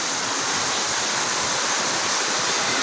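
Rising floodwater rushing during a super typhoon, a steady, loud, broadband roar of churning water filling the whole moment without pause.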